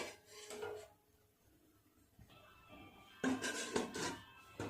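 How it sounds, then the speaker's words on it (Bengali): A lid set onto a cooking pot of bottle gourd, potato and shrimp curry, heard as quiet metallic clinks and a scraping rattle at the start and again toward the end. "চাপা দিয়ে দেবো।"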